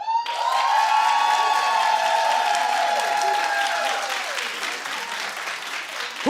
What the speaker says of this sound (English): Terry and Idris, we'll do a clap off.